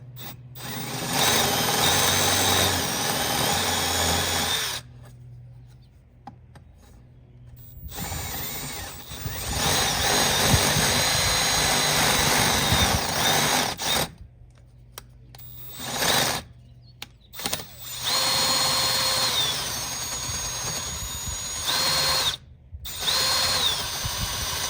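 A power tool grinds through the wood of a 1986 Rinker boat transom and into the fiberglass behind it, loud whirring bursts broken by brief pauses, the tone shifting as the cut changes material.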